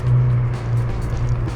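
A Renault Mégane 2 RS engine pulls with a loud, close, low-pitched drone, briefly dipping as it shifts into second gear and then carrying on steadily.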